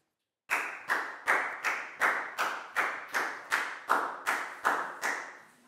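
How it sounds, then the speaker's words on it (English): Twelve evenly spaced, close claps ring out after a brief silence, each with a sharp attack and short decay, like a single person or small group clapping in unison to praise a student in a Year 4 class. "Big round of applause for Dan"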